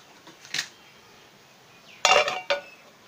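A lid set onto a pan of potato and egg omelette on the stove: a faint clink, then a louder metallic clatter and a second clink about half a second later, alone in a quiet kitchen.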